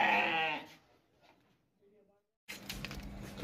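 A big castrated goat at a Qurbani livestock sale gives one short, close bleat, followed by quiet and then a patch of background noise.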